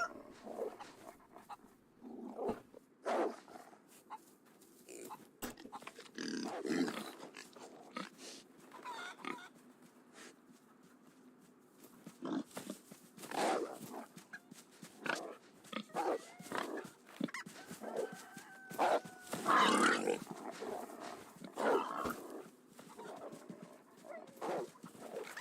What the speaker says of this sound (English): Freaking dog,